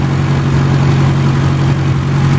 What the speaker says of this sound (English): this is the smoothest running M10 I've seen in 18 months